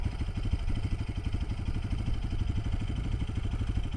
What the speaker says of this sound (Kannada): ಐಡ್ಲಿಂಗಲ್ಲಿ ಈ ಥರ ಸೌಂಡ್ ಬರ್ತದೆ.